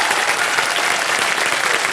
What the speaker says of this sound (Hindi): आपका सर तालियां बज जाए इनके लिए एक बार बैठ के।